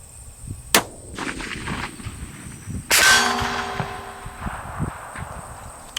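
Tikka CTR .308 rifle fired at a steel target at long range: two sharp shots, the second followed by a ringing metallic clang and lingering tone, over outdoor background noise.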